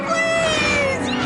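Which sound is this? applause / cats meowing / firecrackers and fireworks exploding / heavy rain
cats meowing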